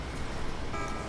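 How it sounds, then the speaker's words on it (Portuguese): Toy Volkswagen Beetle from a Kinder egg sounding a short electronic horn toot, loud and close, brief and alone. "E buzina."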